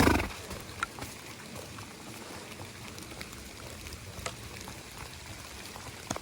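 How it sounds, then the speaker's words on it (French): Raindrops fall on trees during a horse ride in misty high ground, heard as faint scattered ticks and taps over a soft, continuous hiss, with a few sharper drips standing out. "Les gouttes, elles sont violentes parfois."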